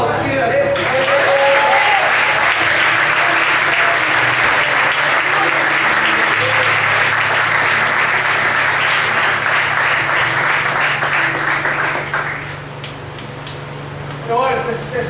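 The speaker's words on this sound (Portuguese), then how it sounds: "Então vamos aplaudir a esse Deus." A church congregation applauds loudly and steadily for about twelve seconds, the dense clapping dropping off near the end while a low sustained hum runs underneath and voices come in at the close.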